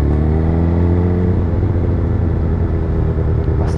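A car passes in Berlin city traffic with a loud, close engine rumble. Its pitch sweeps downward early as it goes by, then it settles into a steady roar of traffic and nearby motorcycle engine noise.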